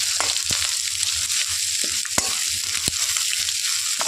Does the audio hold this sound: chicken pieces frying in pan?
yes